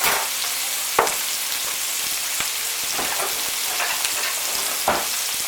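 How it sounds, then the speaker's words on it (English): Beef mince with crushed garlic fries in a pan, a close, steady crackling sizzle broken by occasional sharp clicks and scrapes of stirring. "Now we're just going to fry this off"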